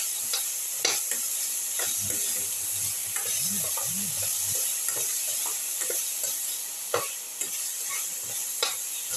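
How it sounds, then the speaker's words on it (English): Cumin, cucumber and shallots sautéing in a pan for a rice soup, a constant close sizzle with scraping spoon strokes and a few sharp clinks against the pan, no talking. "keep on sauteing"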